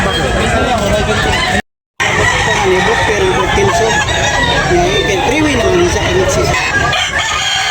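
A rooster crows amid a busy background of other birds and crowd chatter at a chicken market in Tabunok, Talisay, Cebu, with a brief dropout of silence near the start.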